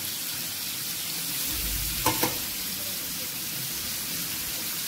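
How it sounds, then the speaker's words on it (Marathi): Prawns fry on an iron tawa with a dense, even sizzle like static, close and constant, with one brief clatter partway through. "फ्राय करून घ्यायचं. लोखंडाचा तवा आहे म्हणून हे चिटका नाही"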